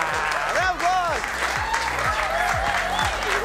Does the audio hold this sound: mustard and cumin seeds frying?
no